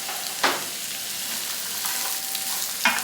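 Onion and garlic fry in a pan with bacon, giving a steady, close sizzling hiss, broken by two brief scraping bursts of stirring.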